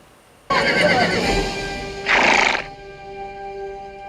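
A horse in a movie scene gives a loud, bright neigh, then a second shorter whinny follows a moment later, with some hoof and scene noise between and a steady background hum afterward.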